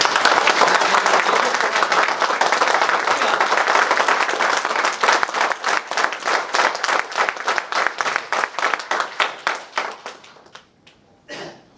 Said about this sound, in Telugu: ఇంతకంటే గట్టిగా చప్పట్లు కొట్టడం చేత కదా మనకి?